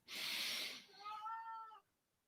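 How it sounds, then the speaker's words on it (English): Domestic cat giving one drawn-out meow, close and fairly quiet, rising from a breathy start into a clear tonal cry before stopping abruptly. "Can you hear my cat coming?"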